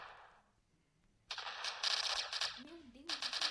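Rapid machine-gun bursts from a video game shootout, dense repeated volleys loud and close after a quieter opening, with brief gaps between bursts and a voice speaking underneath.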